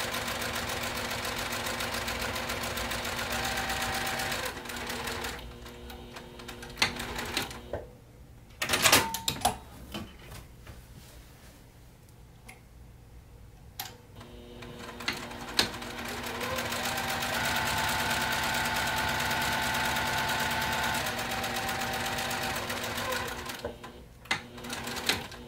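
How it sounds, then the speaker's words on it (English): A sewing machine back stitches the ends of a zipper pocket opening on a hip bag, running in steady mechanical bursts with short pauses and a quieter stretch midway, close and clear with no talking. "I'm going to back stitch on all 4 ends of this zipper pocket opening."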